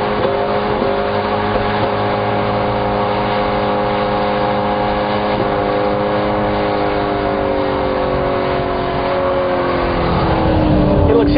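A Ford Mustang Shelby GT500 accelerating hard, its engine note loud, close and continuous, with steady harmonics that climb gradually and dip as gears shift, sustained across the whole stretch with no talk over it.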